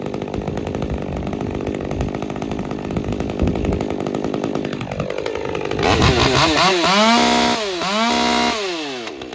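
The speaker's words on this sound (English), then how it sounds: "let it idle for 20 seconds, and that way it'll find its setting for idle" A Stihl MS201TC top-handle chainsaw, fitted with a swapped ignition coil, idles loudly up close with a buzzing two-stroke drone, then revs in several rising and falling bursts.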